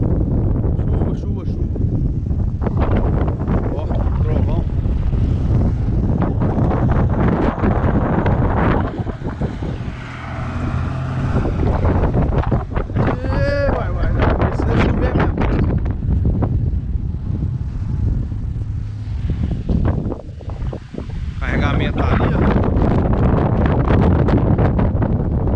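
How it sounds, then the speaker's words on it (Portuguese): Strong wind from a passing storm roars and buffets the microphone in a constant loud rush, with brief lulls, while people talk beneath it, at a rural sugarcane farm. "Tá ventando demais"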